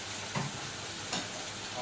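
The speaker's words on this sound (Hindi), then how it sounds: "अब डाल दूंगी इसमें पनीर के पीस।" Paneer pieces drop into a hot pan of chilli paneer, giving a steady, close sizzle with two brief louder bursts of frying as the pieces hit the oil; no one talks.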